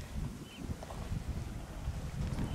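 Gusty wind buffets the microphone in low, uneven rumbles, a steady blustery noise with no voices.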